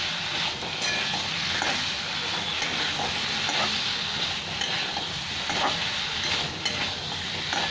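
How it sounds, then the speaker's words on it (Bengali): Pointed gourd and potatoes fry with spices in a hot pan, giving a loud, continuous close sizzle with faint scraping as they are stirred, and no voices. "সবকটা একসাথে ভালো করে মশলার সাথে ভেজে নিচ্ছি।"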